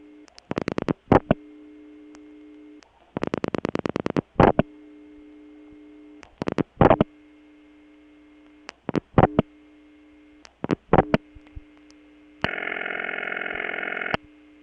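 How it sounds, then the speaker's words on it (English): Bursts of rapid clicking and short buzzy tones from a Bell No. 355 step-by-step telephone exchange in Kent, Connecticut, 1980, sound over a steady electrical hum, ending in a sustained harsh reorder tone. "This ringtone does match the reorder we heard earlier."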